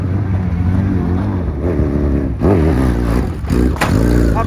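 An off-road machine's engine growls and revs in loud uneven bursts while dropping down a rock wall at Hells Gate in Moab, close by with some clatter between throttle blips.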